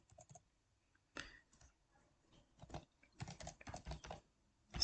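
Someone typing C code on a computer keyboard, quiet rapid key clicks in irregular bursts with short pauses between them, close and alone with no talk.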